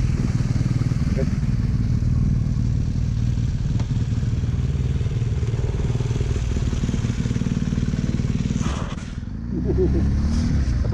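A BMW R 1200 GS Adventure motorcycle accelerating hard in a drag race, loud, steady engine roar close by for most of the run before easing off near the end, with voices briefly audible.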